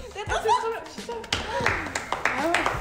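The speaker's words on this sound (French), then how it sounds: "Vous pouvez regarder Younes qui applaudit à contre-cœur quand même" Scattered clapping from a contestant at a student quiz game, a few uneven hand claps heard amid lively talk, laughter and chuckles nearby.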